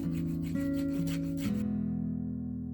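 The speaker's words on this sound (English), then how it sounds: "I just got to do some filing." A file rasps against a sterling silver ring made from old family silver, a few short scraping strokes with ringing tonal overtones, close and clear, ending in a fading metallic ring with no talk.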